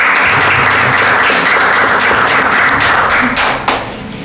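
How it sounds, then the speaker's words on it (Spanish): Loud, close clapping from a small group at a wedding ceremony, brisk and continuous, fading off near the end. "Un aplauso por favor."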